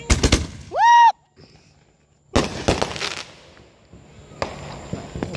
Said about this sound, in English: They got some good fireworks over there